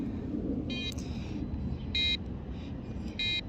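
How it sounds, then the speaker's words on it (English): Short electronic beeps from a homemade package anti-theft device sound in a repeating pattern, three clear bursts over a low rumbling background. "I've walked far enough away now and it's beginning to beep."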